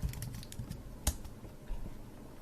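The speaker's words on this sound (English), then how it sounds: "And now I can log in as Tim. So Tim, and then his password" Password keystrokes tapped on a computer keyboard, a quick run of quiet close clicks with one sharper key strike near the middle.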